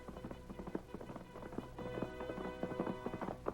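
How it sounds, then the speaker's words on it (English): Horse hooves gallop in a Lone Ranger radio drama, a fast, rhythmic clip-clop of hoofbeats that stays close and steady throughout and gradually grows a little louder. "Look at that horse come."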